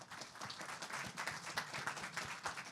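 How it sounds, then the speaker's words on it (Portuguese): A seminar audience at a cultural policy panel in Rio de Janeiro claps steadily throughout, a dense, continuous patter of many hands at moderate distance, fairly quiet, with no voices over it. "Uma salva de palmas, por favor."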